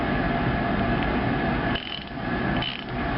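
Dense, steady mechanical clicking from a 1/2-inch drive Armstrong industrial ratchet, old but still tight, worked close up with brief softer dips partway through and no talking.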